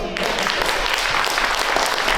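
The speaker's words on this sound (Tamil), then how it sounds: "நல்லா பலமாக ஒரு கைத்தட்டு கொடுங்க." Loud, dense clapping from a gathered audience, continuous and close, a thick unbroken roar of hands with no voices rising above it.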